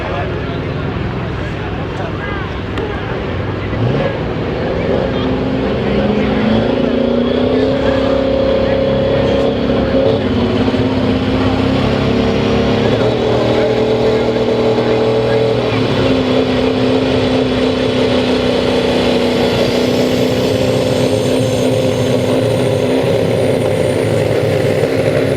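A 1999 Ford diesel truck with a 7.3 engine at a Pro Mod diesel 4x4 pulling event gives a loud, sustained engine roar that holds steady through the whole stretch, with droning tones shifting in pitch.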